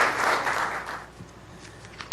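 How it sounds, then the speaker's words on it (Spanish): An audience claps for a speaker at a book presentation, a dense burst of applause that quickly thins out into scattered, fading claps. "Con ustedes, un fuerte aplauso, por favor"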